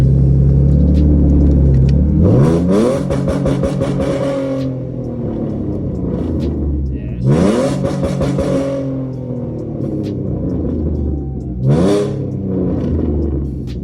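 A V6 Ford Mustang with a loud, cheap aftermarket exhaust revs three times outdoors, each rev climbing sharply to a raspy roar and falling back to a rumbling idle, close and alone.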